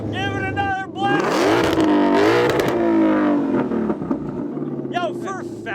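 A 760-hp Ford Mustang GT500 blasts its engine close by, a loud snarling rev that climbs and sustains for several seconds before dropping back, with people talking and exclaiming around it.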